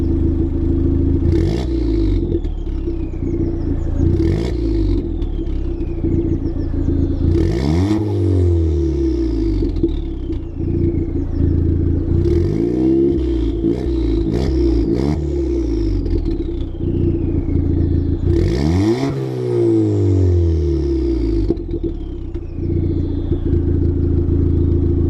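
A Ford Fiesta ST180, tuned, with a Milltek non-resonated race exhaust and sports cat, revs repeatedly in loud, sharp bursts that sweep up and fall back over a steady idle, close by, with no talk.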